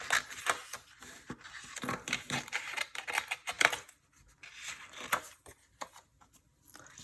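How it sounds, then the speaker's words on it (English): Large scissors rough-cutting stamped paper for a paper doll scrapbook project, giving a series of crisp, close snips and paper rustles in an irregular rhythm with short pauses between cuts. "And then I'm just going to rough cut it out with my big scissors."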